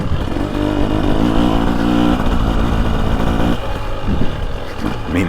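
A 2023 Husqvarna TX300 Heritage Edition two-stroke dirt bike runs steadily while riding GP-style woods trails, a loud continuous engine drone with slight rises and a brief dip near the end, close and with no talking.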